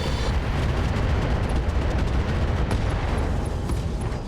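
An AC-20 ammo explosion in the mech game RogueTech, a dense, continuous roaring blast of rumbling noise that stays loud and steady throughout with faint crackling on top.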